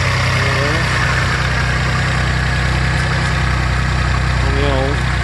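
The engine of a Maserati Biturbo 430 idles loudly and steadily up close, a dense continuous drone with a deep low rumble, while voices speak briefly over it.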